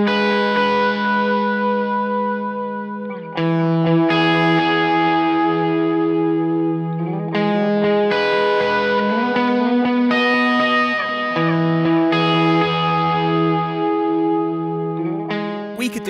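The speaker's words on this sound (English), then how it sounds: "We've stuck this Universal Audio Starlight Echo Station in the effects loop." An electric guitar plays through a Fryette Power Station PS-100 with a Universal Audio Starlight Echo Station delay in the effects loop: loud, distorted sustained chords and notes trail into repeating echoes, changing every few seconds.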